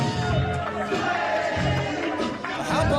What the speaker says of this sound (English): How about the reaction from the Glory Pro crowd